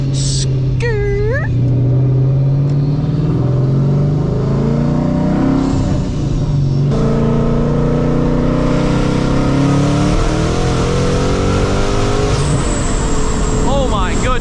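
A car engine on Nitto rear tires roars loudly and steadily, rising in pitch as it accelerates hard, with a voice talking over the engine noise.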